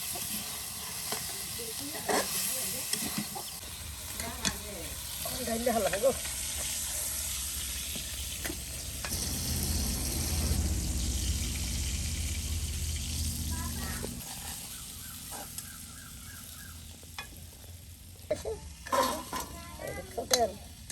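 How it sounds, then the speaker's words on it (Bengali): Chicken pieces frying in a pot over a clay stove in a home courtyard, steady sizzling with occasional stirring scrapes and clinks of the pan, fairly close and continuous with a few quiet voices in the background. "এই যে মুরগির মাংসগুলো একদম ভাজা ভাজা করে নেওয়া হচ্ছে।"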